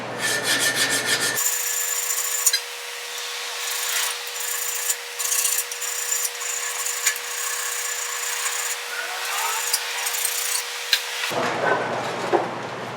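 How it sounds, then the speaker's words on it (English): Rust scraped and brushed off rear brake parts of a 2008 Mercury Grand Marquis, heard as loud, close, continuous abrasive grinding with a steady hum, broken by short pauses, without speech. "So we're just going to take the rust off."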